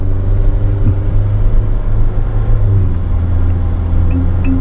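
A Tank 300 SUV driving through mud gives a loud, steady engine drone and low rumble, close and continuous, with no talking.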